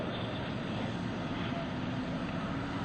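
A racing airplane at an air show sends out a loud, steady engine roar that holds constant and fills the whole moment without fading.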